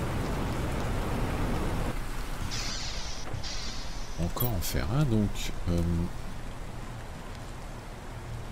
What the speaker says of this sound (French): La pluie.